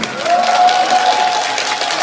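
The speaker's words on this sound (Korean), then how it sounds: "우리 이선아 회장님에게도 큰 박수 한번 올리겠습니다" Audience applause for the gymnastics association president at a ceremony during a city mayor's cup gymnastics contest in Gwangyang, steady and dense, with a sustained tonal sound running over it for about two seconds.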